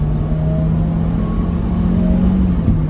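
Engine of a 1992 Citroen BX15 with 80 horsepower pulling steadily as the car accelerates toward 60 km/h, a continuous low drone with mild whir heard from inside the cabin, no talk.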